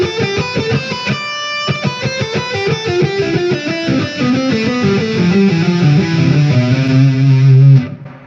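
Distorted electric guitar running a scale pattern in thirds, a quick rhythmic sequence of picked notes stepping steadily through the pattern, ending on a held note that cuts off abruptly; played alone and loud.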